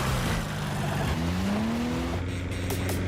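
A car engine revs with a rising, whining pitch over continuous road roar, sounding like a fast car accelerating, with a brief squeal-like change near the end.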